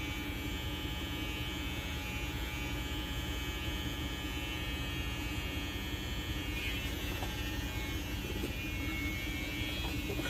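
Electric hair clippers lining up a haircut in a barber setting give off a steady, close buzzing hum that runs without a break for about ten seconds, with no talking.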